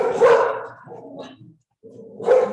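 Several dogs bark in short loud bursts near the microphone, set off by a knock on a table, with a brief pause before a final burst.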